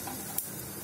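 Cumin seeds crackle in hot oil as they are stirred, a brief steady sizzle with a single small click of a utensil.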